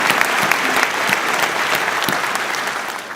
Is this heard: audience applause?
yes